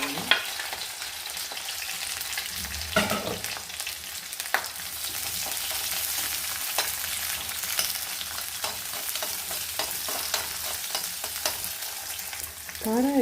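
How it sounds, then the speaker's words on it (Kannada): Oil with mustard seeds, chopped onion and green chilli sizzles in a pan for avalakki, a steady close frying hiss broken by scraping stirs and a few sharp pops. "ಒಂದು ಸ್ವಲ್ಪ ಎಣ್ಣೆ, ಸ್ವಲ್ಪ ಸಾಸಿವೆ, ಕಟ್ ಮಾಡ್ಕೊಂಡಿದ್ದ ಈರುಳ್ಳಿ, ಮೆಣಸು"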